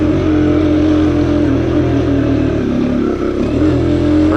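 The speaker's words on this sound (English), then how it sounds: "You get my RPMs up, and then hold them while I go up this." A Sherco TY125 trials motorcycle engine is held at raised revs while climbing, giving a continuous close buzzing drone that dips briefly and then recovers.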